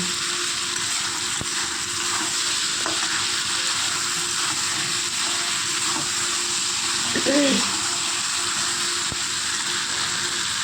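Continuous sizzling of country chicken stir-frying in a pan, with occasional stirring scrapes and a faint bird-like chirp partway through.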